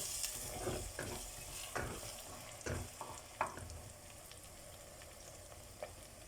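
Onion and egg frying in a pan on a home stove: a gentle, steady sizzle with several scraping stirs of a utensil in the first half, quiet and close, with no one talking.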